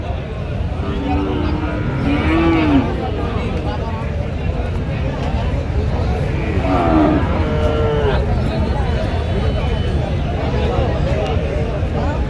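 Cattle moo repeatedly at a busy livestock market in Joypurhat, Bangladesh, with bulls on sale; several drawn-out lowing calls rise over steady crowd chatter and bargaining voices.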